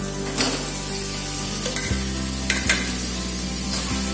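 Chicken pieces drop into a hot pan of spicy curry paste and sizzle steadily, with a few sharp scraping knocks as the mixture is stirred close by.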